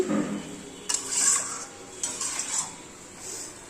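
Chicken curry with salt is stirred in a pan, with spoon scrapes and clinks against the metal in a few short bursts, close and fairly quiet.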